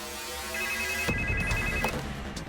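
A phone call rings out over a speakerphone, a steady electronic ringing tone held for about a second before a click cuts it off, followed by muffled line noise and faint sounds.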